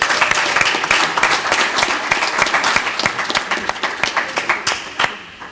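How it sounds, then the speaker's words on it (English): Applause from a student government senate meeting audience, dense steady clapping that thins toward the end with a few sharp individual claps. "That deserves a round of applause."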